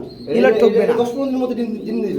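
Puttul shirting pigeons coo in low, throaty bursts beneath someone talking close by.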